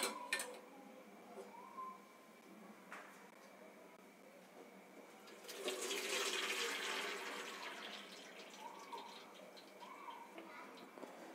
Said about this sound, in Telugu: పాత్ర పెట్టుకున్నాము, ఇంకా వడగొట్టుకుందాం అండి.